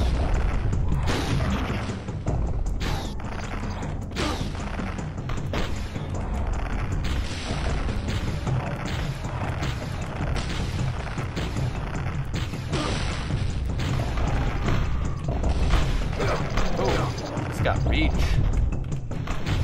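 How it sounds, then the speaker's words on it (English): Gunfire from enemies in the Turok game crackles in rapid bursts and heavy booms, loud and continuous throughout, over a dense mix of game sounds and a talking voice. "Somebody shooting at me."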